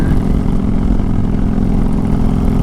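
A 2022 Honda Fury motorcycle cruising at 60 mph, a loud, steady low engine drone with rushing wind noise, continuous and close throughout, no voices.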